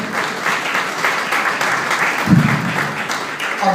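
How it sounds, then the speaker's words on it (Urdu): Church congregation applauding during a sermon, steady clapping that fills the whole stretch at moderate volume, with a brief low thump or voice partway through. "تالیاں بجائیے اس بات کی."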